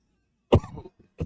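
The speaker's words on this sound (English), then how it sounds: "Cough on the mic." A sharp cough lands close into a podcast microphone, followed by a brief rasp and a second short cough.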